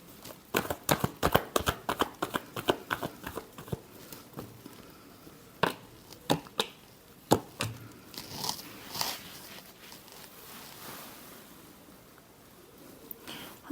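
Tarot cards are shuffled by hand in a series of quick, crisp riffling and snapping bursts, dense at first and then spaced into separate flicks, close and fairly quiet with no talking.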